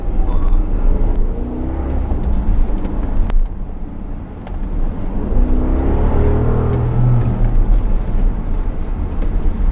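2018 Porsche Cayenne Turbo accelerating along a road, heard as a continuous loud low engine and road roar that swells and eases across the clip, with no talking.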